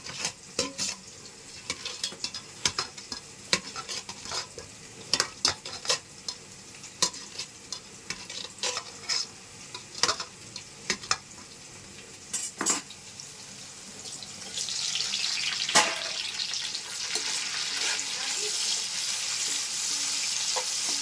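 Onions and sliced tomatoes frying in a pan for mushroom biryani: a soft sizzle under frequent sharp clinks of stirring, then a louder hissing surge of frying toward the end, with no talk.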